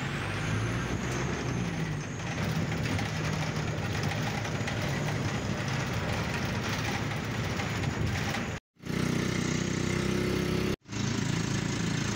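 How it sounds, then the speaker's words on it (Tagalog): A motorcycle engine drones continuously during a ride in Abuyog, loud and close with steady wind and road noise, interrupted by two brief dropouts. "sakay ulit ako ng motor."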